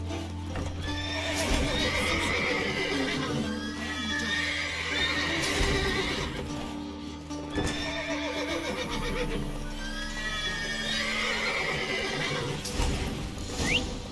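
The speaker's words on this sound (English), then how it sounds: "Gotta calm all the horses before they wake the guards." Several horses whinny and neigh repeatedly in The Witcher 3 video game, loud and close, with snorting and hooves shuffling in between.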